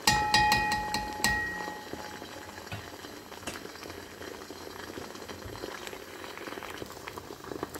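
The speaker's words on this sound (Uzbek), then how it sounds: "go'shtni qovurilishini kutamiz" Meat fries in a pan, stirred with a metal skimmer: a few bright metallic clinks at the start, then a steady, moderately quiet sizzle and crackle of fat continues alone.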